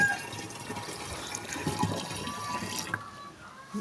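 Tap water running steadily into a container during a water shortage, a continuous moderate splashing stream heard up close with no talking.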